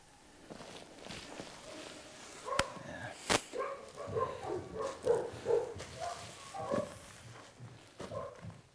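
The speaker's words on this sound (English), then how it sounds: "As you can hear, there's the farm dogs outside." Farm dogs barking outside a building during daylight feral pigeon shooting with an air rifle, a run of distant, muffled barks over quiet background with a couple of sharp knocks.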